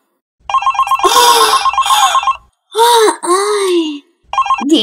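A telephone rings in repeated electronic bursts with short gaps, loud and close, while voices speak over parts of the ringing.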